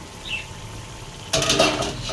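A metal lid comes off a pot of potatoes cooking for jhinge aloo posto, a brief clatter followed by hissing steam and soft bubbling, close and moderately loud.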